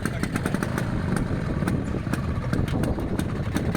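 A motorcycle engine idles nearby with a steady, rough rumble and rapid popping pulses throughout.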